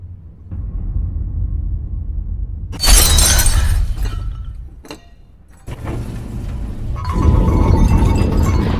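Glass shattering in a horror film about a morgue, a loud crash around three seconds that decays into debris, followed by quieter clatter and low rumbling ambience with no talking.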